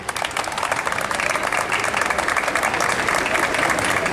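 Lively applause from the audience at a school coexistence fair at a technical secondary school, a thick, continuous patter of many hands that swells slightly toward the end, with no talk over it.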